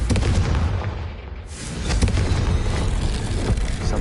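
A Confringo fire-spell explosion in Hogwarts Legacy, a dense, loud blast that fills the whole clip with sustained roaring noise and a second swell of crackling energy midway.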